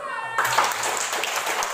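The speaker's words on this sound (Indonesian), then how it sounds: "Tepuk tangan untuk kalian" Children in a classroom clapping together, a brief burst of hand claps that quickly fills the room, heard over voices.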